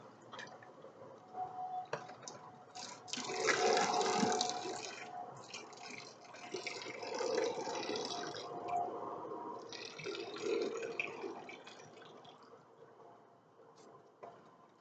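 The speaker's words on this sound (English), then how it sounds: "And dump that out the water." Water splashes and drips out of an unscrewed toy water gun in uneven gushes, swelling and fading several times, with small trickles in between and no talking.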